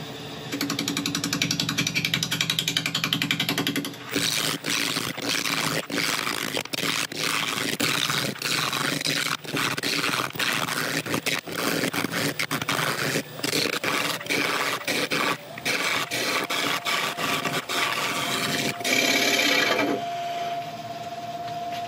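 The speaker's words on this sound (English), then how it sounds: "We'll be going at it with a 1-inch roughing gouge from Record Power." A 1-inch Record Power roughing gouge cuts into a lumpy, pith-marked yew blank spinning on a lathe, a steady loud scraping rasp broken by rapid irregular knocks of the tool hitting the uneven wood, with quieter motor hum at start and end.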